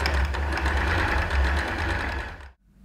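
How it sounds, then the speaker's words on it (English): Domestic sewing machine running steadily while stitching a straight line for a bound buttonhole, a continuous close motor whir with rhythmic needle clatter that stops abruptly near the end. "I'm just going to sew a straight line from that one end to the other."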